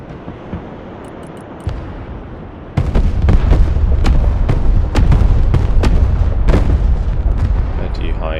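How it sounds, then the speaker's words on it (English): Cruise missiles strike in the Broken Arrow war game as a rapid series of loud, sharp booms and blasts that keep going over a rumbling background after a quieter opening. "Fling some more cruise missiles towards them."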